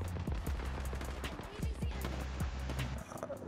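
Gunfire in Apex Legends: rapid, repeated sharp shots in quick bursts, fairly close, over steady background game noise with a voice talking in places.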